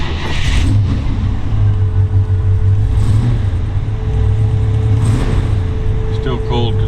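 A 1939 Ford Deluxe Tudor with a 401 Nailhead V8 and dual quads, cold-started in a shop, runs with a steady, loud low rumble throughout, with small throttle swells and voices talking over it.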